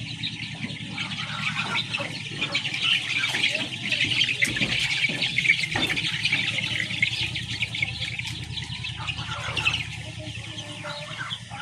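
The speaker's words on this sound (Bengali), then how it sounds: "মুরগির বাচ্চা।" Many chicken chicks at a poultry farm cheeping in a dense, continuous high chorus, close and steady, with a person talking faintly in the background.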